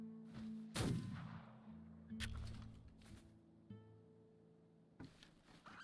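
Gunshots from the video game Flintlock: The Siege of Dawn, a few sharp, loud flintlock blasts spaced a second or more apart over a low musical drone, with no talking.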